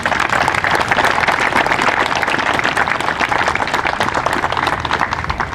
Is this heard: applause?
yes